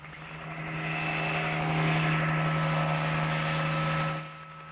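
A BLM helicopter chasing wild horses during a roundup makes a steady, loud rotor and engine drone that swells to a peak and then fades as it passes.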